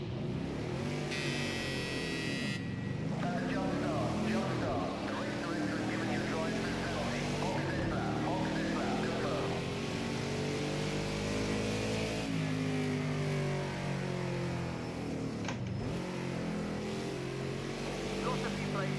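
A race car engine in Project Cars 2 revs steadily throughout, with throttle blips rising and falling as gears change, loud and continuous for the whole stretch.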